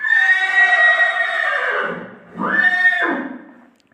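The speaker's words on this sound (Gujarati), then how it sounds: "અમારે ઘોડા રાડું નાખે" A horse lets out a loud, close whinny, a long shrill call, then a short second burst that trails off.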